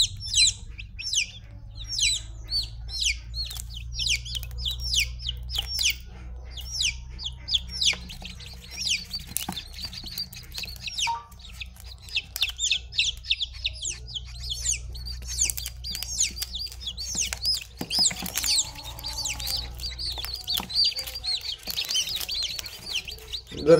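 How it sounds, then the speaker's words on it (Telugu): A small yellow and white baby chick peeps in rapid, high, thin chirps that repeat nearly nonstop at close range, with occasional soft rustles of fluttering wings and no talk. "చూసారు కదా కోడి పిల్ల ఎలా ఉంది ఇది."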